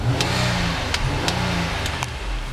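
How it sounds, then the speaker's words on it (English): A 2009 Nissan Maxima SV's 3.5 liter V6 revving in short bursts, several quick throttle blips rising over a steady idle, close and moderately loud with no talk. "I'm going to rev the engine."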